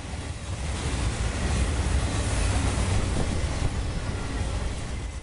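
Steady rushing rumble of a train rolling along the tracks, loud and continuous with no voices, like wind roaring past.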